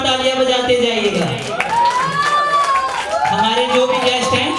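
An audience claps and cheers at an Ambedkar Jayanti celebration held by a coaching class, with loud applause running under a speaker's amplified voice over a PA.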